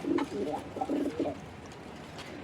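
A male pigeon coos close by while pairing with a female, a few soft throaty coo phrases in quick succession, then a quieter pause with faint background.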